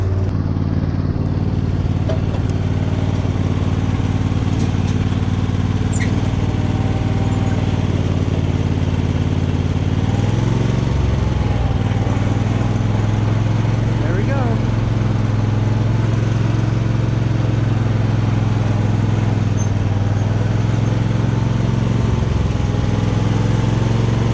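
A Murray Select riding mower engine, started after sitting unused for a year, runs loudly and steadily up close, with a brief dip and shift in pitch partway through as it bogs slightly before settling back into an even drone.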